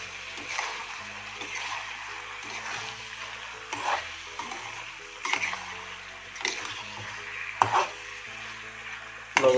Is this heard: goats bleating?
no